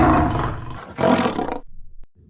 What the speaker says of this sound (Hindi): अचानक से गुरुमा को शेर के दहाड़ने की आवाज सुनाई देती है।